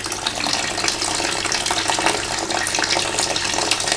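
Water gushing steadily from an opened air vent key at the end of a radiator, a continuous, fairly loud hiss-like rush of liquid with no break across the whole stretch.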